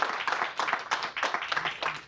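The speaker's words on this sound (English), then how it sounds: "Let's give a round of applause to our speakers." Audience applause for speakers at a panel on students and school shutdowns: a steady wash of many hands clapping at moderate distance, sustained for the whole stretch without a break.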